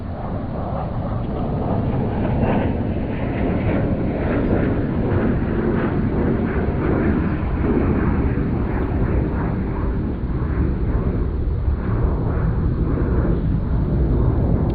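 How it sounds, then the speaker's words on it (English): A propeller or jet airplane passing overhead above a garden, a steady broad loud roar holding for about fifteen seconds with no talk. "Stand by for airplane intermission"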